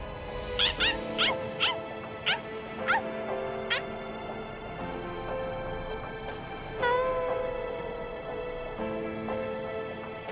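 A dog in the Bleach Rebirth of Souls video game gives a quick series of high yips and whines, then quieter whimpering over a sustained musical score, fairly close and clear.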